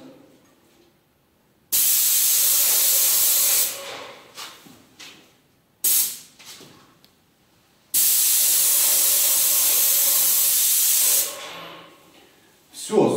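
A paint sprayer fitted with a 510 nozzle sprays interior paint, with two long, loud, steady hissing bursts separated by shorter spurts and quiet pauses.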